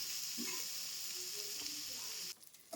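Brinjal curry cooks on low heat with a steady, faint, high sizzling hiss that cuts off abruptly near the end, followed by a brief clatter.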